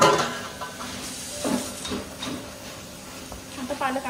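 Spinach for palak paneer bhurji cooking in a pan, soft sizzling and hissing with occasional stirring scrapes, moderately close and fairly quiet.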